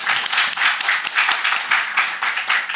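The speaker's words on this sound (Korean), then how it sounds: "우리 박수 한번 칠까요?" A church congregation claps together during a Sunday morning service, steady dense applause filling the room for a few seconds with no talking over it.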